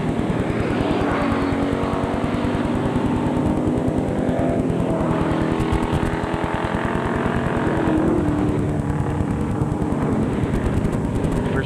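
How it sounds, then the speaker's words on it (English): Race cars circle Kings Park Speedway in Regina, a continuous loud roar of several engines with rising and falling pitch as cars pass, no talk heard. "This is exciting, good, wonderful racing at Kings Park Speedway in beautiful downtown Regina"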